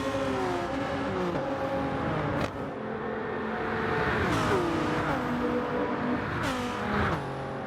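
Several Gr.3 race cars, including a Supra, run in close proximity through a hairpin in Gran Turismo 7, their engines revving loudly with overlapping rising and falling pitch sweeps and gear shifts, with no speech.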